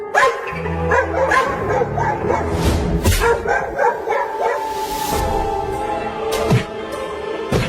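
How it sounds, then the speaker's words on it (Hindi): Dogs bark and yip repeatedly amid a busy, clattering background, the barks overlapping in an agitated, continuous commotion. "अरे ये कुत्ते हमारे घर के पास आकर क्यों भौंकने लगे?"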